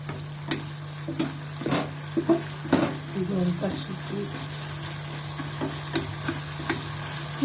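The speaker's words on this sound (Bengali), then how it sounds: "বেটে রাখা মশলাটা দিয়ে দিয়েছি, হলুদ, এগুলো নেড়ে নেবে যাতে না ধরে।" Ground spice paste and turmeric fry in oil in a pan while being stirred with a utensil, a steady crackling sizzle with repeated scrapes and clacks of stirring, close and fairly loud, with no talking.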